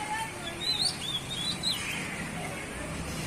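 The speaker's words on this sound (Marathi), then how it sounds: "हीच ती चिमणी." A house sparrow chirps in a few short, high bursts early in the morning, faint and somewhat distant over a steady background hiss, with no talking.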